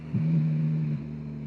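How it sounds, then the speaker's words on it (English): A motorcycle engine braking on a downshift, with a short blip followed by a steady low drone that drops off toward the end, heard up close with no talk. "Little downshift, little engine brake."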